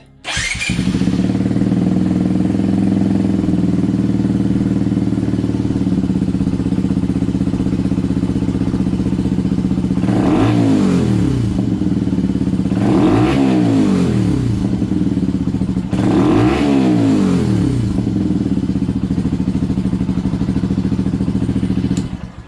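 A modded motorcycle fitted with a quiet baffle idles loudly, then revs hard three times to maximum, each rev sweeping up and falling back to a steady idle.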